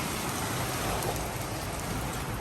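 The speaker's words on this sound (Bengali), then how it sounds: "দেখেন বাইরে অনেক বৃষ্টি হচ্ছে" Heavy rain mixed with hail pours down outside, a dense, steady, unbroken hiss of drops striking surfaces with no voices.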